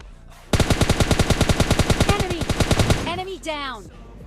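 Rapid automatic gunfire in the mobile game PUBG Mobile Lite, a loud, steady burst of about two dozen shots, followed by a short trailing electronic tone.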